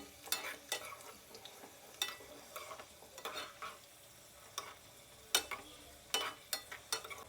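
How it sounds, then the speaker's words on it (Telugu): Raisins and cashew nuts fry in a pan while a spoon stirs them: soft sizzling under repeated scraping, clicking stirring strokes at an uneven pace, close and fairly quiet, with no talking. "ద్రాక్ష వేగిపోయింది, ముంతమామిడి పప్పు కూడా కలర్ వచ్చేసింది."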